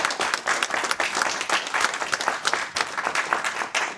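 A live audience at a parish talent evening recorded for a radio broadcast in Châteauneuf claps in a lively, uneven burst of applause that holds steady and fairly close throughout, with no talking over it.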